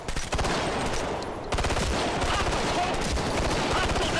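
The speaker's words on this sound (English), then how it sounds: "See, I can shoot him in the elbow there." Rapid automatic gunfire in the tactical shooter game Ghost Recon Future Soldier rattles on without pause for several seconds, dense and loud, under a brief mix of other game sounds.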